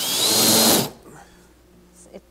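A power driver sinks a coarse-thread 1¼ inch drywall screw into a reclaimed stair tread for a shop sawhorse, whirring loudly for under a second before stopping, leaving quiet room tone and a small knock.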